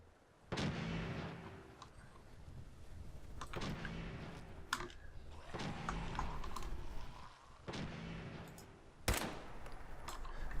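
Heavy gunfire in the video game Fallout 4, in survival mode against a ghoul swarm: four loud, booming shot bursts spaced a few seconds apart over a continuous rumbling background.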